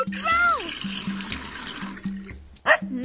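Water pours and splashes onto a growing plant in a cartoon garden, a short running stream with a bright splash near the end, under excited children's voices and background music.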